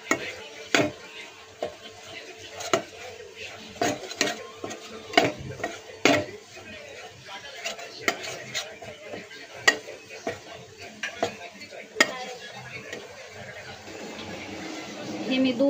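Maida flour roasts in a pan while being stirred for white sauce pasta, irregular close metallic scrapes and taps of a spoon against the pan repeating every second or so over a quiet background.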